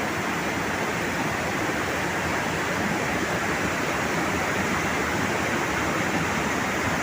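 A river rushes steadily past huge boulders below Wawa Dam in Montalban, Rizal, heading toward the Marikina River. The roar of flowing water is constant and broadband, with no voices.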